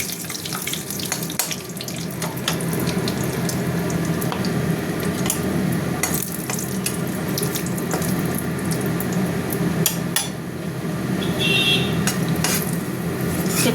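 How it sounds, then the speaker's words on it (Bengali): Bay leaves and dried chillies sizzle steadily in hot oil in a kadai, a continuous frying hiss with occasional crackles and no talk. "তেল গরম হয়ে গেছে, তেজপাতা, শুকনো লঙ্কা দিয়ে দিলাম।"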